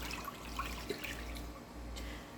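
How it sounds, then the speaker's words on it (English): Two cups of beef broth pour into a crock pot for a pot roast, a steady liquid splashing and gurgling with a few brief drips, fairly close and uninterrupted. "let's add in our 2 cups of the beef broth"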